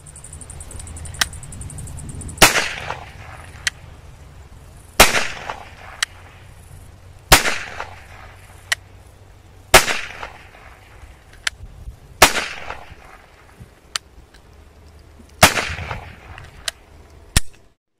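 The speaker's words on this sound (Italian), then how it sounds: "Andiamo a vedere la sua prova di sparo." A blank pistol, a Bruni P4 replica of the Beretta PX4, fires seven loud, sharp shots spaced a couple of seconds apart, each followed by a brief echo, with small mechanical clicks between.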